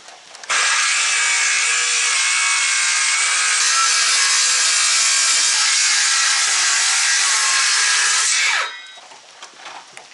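A saw cuts through a board to trim it down while building a root cellar, giving one loud, continuous rasping cut of about eight seconds that ends abruptly, with faint handling sounds after.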